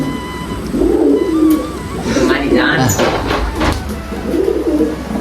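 Pigeons cooing nearby in repeated low throaty phrases, alongside a person talking and a few higher bird chirps.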